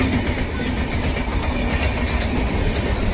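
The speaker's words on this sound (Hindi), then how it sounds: "रांची गरीब रथ एक्सप्रेस क्रॉस करते हुए हमारी ट्रेन को" A passing Ranchi Garib Rath Express rushes by close alongside a moving train, a steady loud broadband roar of rolling wagons with faint rhythmic clatter throughout.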